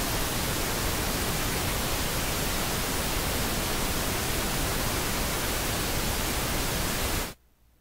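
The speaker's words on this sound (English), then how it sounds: "I'm just going to play the pink noise" A steady, loud pink noise test signal hisses evenly across the whole clip and then cuts off abruptly near the end, leaving near silence.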